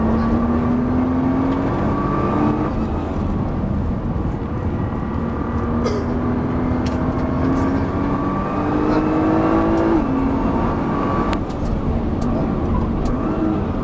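A Nissan GTR accelerates on the race track at Dreux, engine tone climbing through gears in repeated rising sweeps with brief shifts between them, loud and close throughout.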